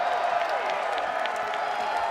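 Esports arena crowd at an Apex Legends championship bracket stage, applauding and cheering in a steady, dense wash of noise that holds at an even level throughout, with no single voice standing out.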